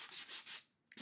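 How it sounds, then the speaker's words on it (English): Sanding block rubbed across the edges of a paper card makes short, close, quiet scratchy strokes, three quick back-and-forth passes followed by a pause and another stroke. "so when you sand the edges, you get the two-tone white core pops out"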